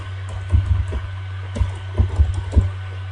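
Keys tapped on a computer keyboard while typing a program's file name to launch it, a short irregular run of soft clicks in small bursts, close and fairly quiet over a steady low hum.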